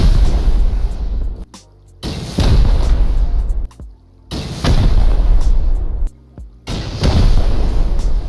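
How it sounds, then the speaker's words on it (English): Rockets slamming into a base roof in the video game Rust, four loud booming blasts spaced a couple of seconds apart, each with a short rumbling tail before the next. "Here I'm going to use 4 rockets on the top so I can take out all 3 roofs at once."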